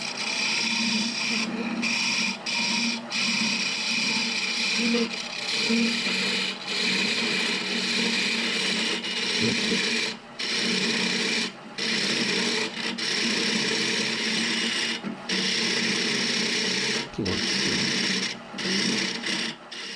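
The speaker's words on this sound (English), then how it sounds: "you see I'm doing this middling cut, coming to the wall and going outwards" A hollowing cut on a wood lathe gives a continuous close scraping, rasping whir of the tool against the spinning wood, broken by short regular gaps as the cut sweeps from the wall outward.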